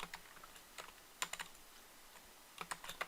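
Computer keyboard keys tapped in sparse, scattered clicks and short bursts, including Ctrl+C and Ctrl+V shortcuts while entering C# code; close and fairly quiet, with no voices.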